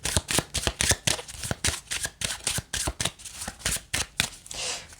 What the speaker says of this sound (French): Je vais prendre une autre carte.